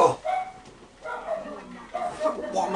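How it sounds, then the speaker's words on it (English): Several dogs bark and yip in Batman: Arkham Asylum, short bursts repeating over a few seconds beneath someone speaking over the game sounds. "What are my dogs barking at?"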